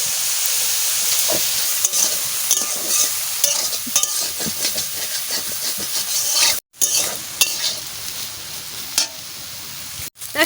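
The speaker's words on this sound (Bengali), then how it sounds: "সবিনটা না একটু ভালো করেই ভাজা করে নিচ্ছি" Soybean chunks with turmeric and salt sizzle in oil while a spoon stirs and scrapes the pan in repeated strokes, a close, busy crackle with two short breaks.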